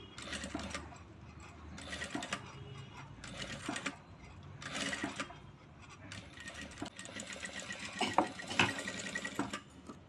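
Sewing machine stitching a strip of net cloth folded double, in bursts of rapid mechanical whirring separated by short pauses, close and steady, with no talking.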